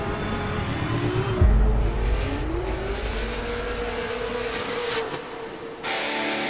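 Drift cars at a Formula Drift Pro round in Seattle, engines droning and shifting pitch as they slide, with a loud surge of engine noise near the middle and a sudden drop-off near the end.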